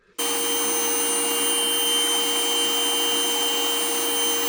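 A router spins steadily while trimming oversized wood cabinet pieces for custom pantry cabinets, a loud continuous high-pitched whine that starts abruptly and holds without a break.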